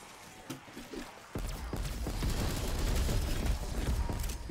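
Ray gun fire in a zombies first-person shooter, a dense, continuous barrage of blasts and impacts building after a quieter opening, loud and close with game effects layered underneath.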